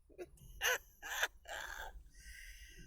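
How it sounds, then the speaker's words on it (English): Outdoors, a few harsh caws ring out in quick succession, like a crow calling at moderate distance, with faint background birdsong after. "Sitting out here in the sun, listening to the birds."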